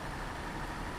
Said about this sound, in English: Where the engine's still running